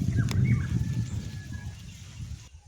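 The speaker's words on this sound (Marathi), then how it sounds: "त्या मलबार पक्षींचा हा आवाज एकदम मधुर, त्याच्यामध्ये गोडवास असतो" A Malabar bird calls on a foggy Konkan morning: a short, clear whistled phrase rises over low, soft cooing and fades out within a few seconds.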